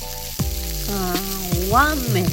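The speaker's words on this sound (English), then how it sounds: "we can tell if it's cooked or not from the sizzling sound" Tempura deep frying in hot oil at a Japanese restaurant, a steady close crackling sizzle throughout while a voice talks over it.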